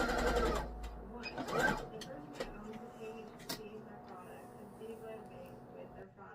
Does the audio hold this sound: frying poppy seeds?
no